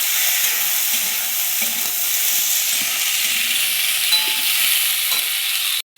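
Potatoes and yardlong beans frying in a pan, a loud, continuous close-up sizzle with faint stirring scrapes underneath, cutting off abruptly at the very end.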